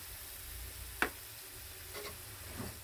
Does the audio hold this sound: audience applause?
no